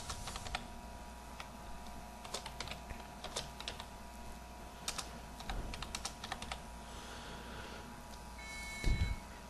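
Typing a new password on a computer keyboard: quiet, irregular clusters of key clicks over faint background hum, with a slightly louder thump near the end.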